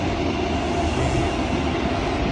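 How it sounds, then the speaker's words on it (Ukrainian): A locomotive and railway train at a station after a snowstorm, heard as a loud, steady, broadband rumble with constant mechanical drone throughout, no clear clatter or horn. "Це локомотив"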